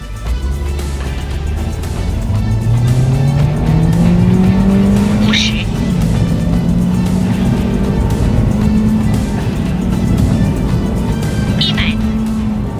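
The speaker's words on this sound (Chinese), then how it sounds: "好，那接下来我们就开始进行加速测试吧。" A Toyota Altis GR Sport accelerates hard from standstill in a 0–100 km/h test, its engine note rising steadily under a continuous loud road and wind roar, with a brief squeal-like burst midway and another near the end.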